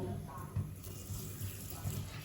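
Water is poured over whole cumin and mustard seeds to soak them, a quiet, continuous trickling and splashing with faint clinks in a home kitchen.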